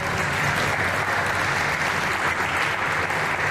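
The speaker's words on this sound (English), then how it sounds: "so let's give them one more round of applause." Audience applauding the candidates at a community candidate forum, a steady, dense wash of clapping held evenly throughout without a break.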